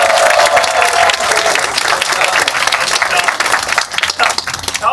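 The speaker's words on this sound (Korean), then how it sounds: "커플에게 큰 박수 부탁드립니다." Audience applause at a musical's curtain call in a small Seoul art hall, a loud, close burst of many hands clapping that gradually thins toward the end.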